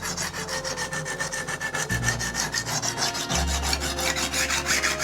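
A chef knife is ground back and forth on a diamond sharpening stone, giving a steady close-up rasping scrape in repeated strokes, with no talking.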